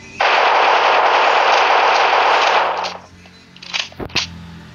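Sustained automatic gunfire in the Block City Wars battle royale game, a loud continuous burst lasting almost three seconds before cutting off, followed by a few quieter scattered shots.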